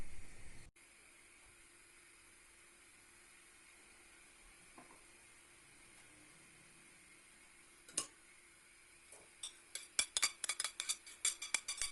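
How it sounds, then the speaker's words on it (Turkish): Minced meat browns in a pan on the smallest stove burner over medium heat and is stirred now and then. A faint, steady sizzle runs throughout, followed by a few sharp utensil clinks against the pan near the end. "ocağın en küçük gözünde ve orta ateşte ara ara karıştırarak kıymayı önden kavuruyorum"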